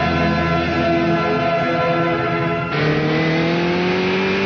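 Toyota MR2 Turbo engine revving hard and close, its rising whine climbing through the rev range, then dropping in pitch at a gear change and climbing again.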